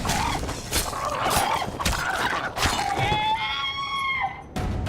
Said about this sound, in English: Sounds like I'm killing, like, fancy hawks or something.